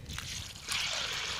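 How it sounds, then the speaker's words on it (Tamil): Water is poured into a pot of overnight-soaked green gram set for boiling, a soft steady trickle that grows into a brighter splashing stream partway through. "இதுக்கு தேவையான தண்ணி ஊற்றிக்கலாம்."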